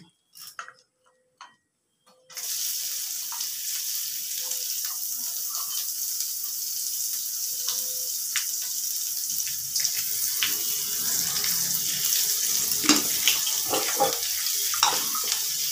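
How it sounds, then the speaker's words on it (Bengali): Onion goes into a pan of frying spices after a few faint clicks, setting off a sudden, continuous hiss of sizzling that holds steady and grows a little busier with scattered crackles, with no talking. "মশলাটা হয়ে গেছে, এবার আমি পেঁয়াজটা দিয়ে দিচ্ছি।"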